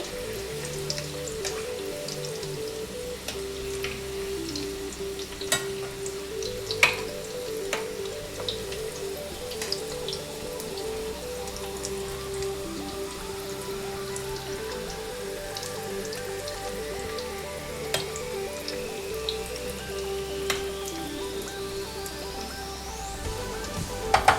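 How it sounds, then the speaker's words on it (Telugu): Potatoes for Kashmiri dum aloo frying in hot oil, a steady crackling sizzle with scattered pops and spits throughout, close and continuous, with no talk. "వీటిని ఒక ఫ్యూ మినిట్స్ ఇలా వదిలేద్దాం అన్నమాట, డిస్టర్బ్ చేయకుండా. అప్పుడు మంచిగా ఫ్రై అవుతాయి."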